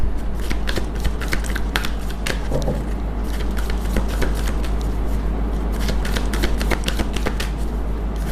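Tarot cards are shuffled by hand in a continuous run of crisp riffling and flicking, dense rapid paper snaps close to the mic over a low steady hum, with no talking.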